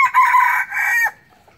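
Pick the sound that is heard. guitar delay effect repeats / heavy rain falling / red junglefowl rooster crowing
red junglefowl rooster crowing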